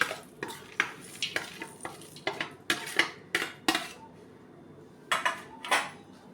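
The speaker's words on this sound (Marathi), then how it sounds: "आता हे मिश्रण सगळं एकजीव करून घेऊया" A ladoo mixture of roasted seeds, grated coconut and raisins mixed in a metal pan or bowl, a series of sharp scraping and clinking strokes of a spoon against metal in an irregular rhythm, close and clear with quiet gaps between.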